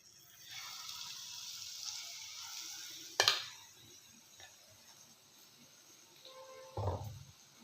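North Karnataka-style green chilli bajji, batter-coated green chillies, fry in hot oil with a soft, steady sizzling hiss, broken by a sharp clatter and a later dull knock.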